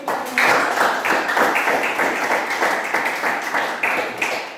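Schoolchildren in an Indonesian classroom clap their hands together in a steady, loud burst of repeated claps lasting several seconds, close by and without talking.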